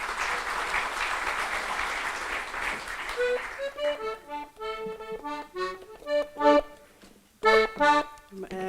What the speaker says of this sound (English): I give her a wee round of applause.